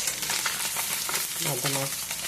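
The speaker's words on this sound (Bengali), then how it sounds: "এখানে তোমার কোয়াশ ভাজছি আর পটল ভাজছি দেখো" Squash and pointed gourd fry in oil in a pan with a steady, loud, dense sizzle that runs the whole way, with a few brief tonal sounds partway through.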